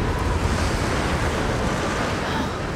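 Strong, steady wind roars through a Tomb Raider game scene, a dense, unbroken blustery rush heard close and loud with nothing else over it.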